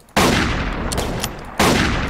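Rifle fire in the video game Battlegun: two loud, close shots, the first ringing on with a long reverberant tail before a second blast cuts in near the end.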